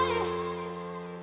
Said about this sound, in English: I played this chord as a major chord instead of a minor, and that sounds like this.